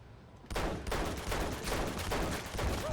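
Gunfire inside a narrow train car in the video game Uncharted 2: dense, sustained bursts of shots rattling continuously for nearly three seconds after a sudden start, loud and close with repeated volleys.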